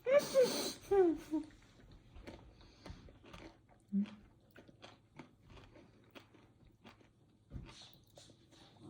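Crunchy bites and chewing of a Reese's Big Cup filled with potato chips, several sharp crunches early on followed by softer, scattered mouth noises close to the mic, with no talking.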